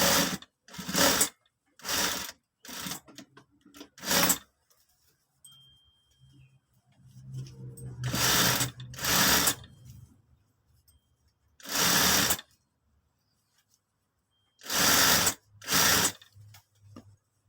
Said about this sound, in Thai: พอมาถึงจุดเริ่มต้นก็เย็บย้ำ